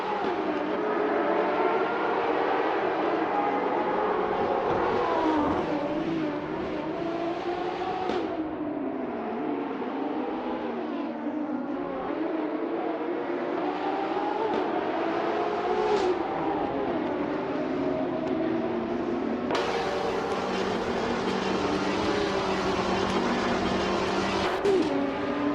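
A field of race cars drives a track, a 1966 Jaguar XJ13 among them, with engines droning steadily and shifting in pitch as they pass and rev; the roar stays continuous and fairly loud throughout.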